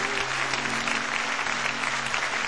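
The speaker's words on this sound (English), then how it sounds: "give the Lord Jesus a hand clap of praise." A church congregation claps continuously in praise, with dense, even hand clapping filling the room and a low musical hum beneath it.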